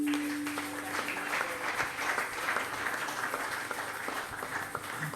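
A church congregation applauds a performer at a special second-anniversary worship service in Kolwezi, with steady, moderately distant clapping throughout, a brief tone early on, and faint voices underneath.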